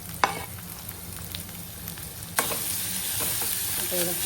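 Chopped onion and garlic frying in a pan, a continuous sizzle that jumps louder midway as the onion goes in, with sharp scraping and clinking of a spoon stirring, close up and without speech.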